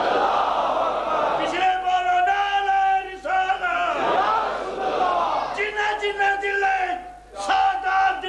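At a Shia religious gathering in Multan, a large crowd roars Allahu Akbar in answer to the takbir call, loud massed chanting in repeated surging bursts.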